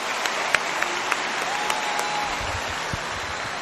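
A large concert crowd at a Roberto Carlos show claps in a dense, continuous wash, with a few louder nearby claps popping out and a faint low murmur underneath.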